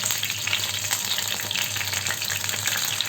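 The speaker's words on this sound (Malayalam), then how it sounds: "ഇനി അതിലേക്ക് വറുക്കാൻ മസാല തേച്ച് വെച്ചിരിക്കുന്ന മീൻ വെച്ച് കൊടുക്കാം കേട്ടോ" Masala-rubbed mackerel frying in a pan with curry leaves gives a steady, dense crackling sizzle with fine popping throughout, close and continuous, with no talking.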